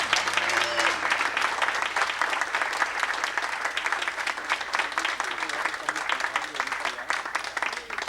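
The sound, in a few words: audience applause for a player at a banquet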